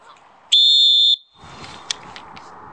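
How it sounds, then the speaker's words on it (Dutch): A safety whistle from a paddler's kit, blown to call for help, gives one sharp, loud, shrill blast lasting about half a second, followed by quieter rustling and a brief click. "Fluitje."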